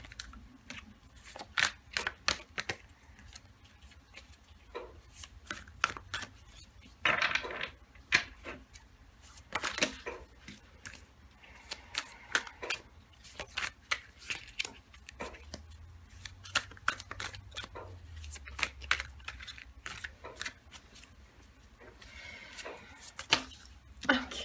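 Tarot cards being shuffled by hand, a long run of rapid papery flicks and riffles in irregular bursts, close and fairly crisp, with no talking.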